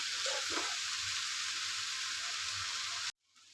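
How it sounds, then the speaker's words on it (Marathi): Onion sabzi hisses and sizzles in a pan while being stirred, a steady close frying noise with soft scraping, ending abruptly. "चांगला ढवळून घ्यायचं"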